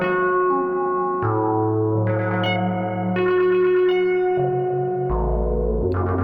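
Layered modular synth recordings run through spring reverb and spread wide in stereo: sustained, shifting tonal chords with metallic, echoing spring splash and a deep bass note entering near the end, dense and continuous.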